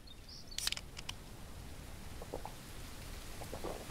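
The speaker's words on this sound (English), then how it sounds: "No, just raining." Steady rain falls in the survival video game Mist Survival, a soft continuous hiss with a few brief louder patters and clicks near the start, fairly close and with no voices over it.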